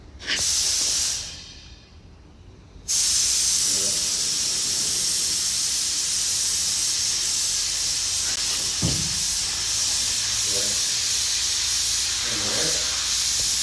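An air compressor drives a seam sealer spray gun in an auto body setting, giving a loud continuous hiss after a brief opening burst, with faint knocks and short sounds under the steady spray.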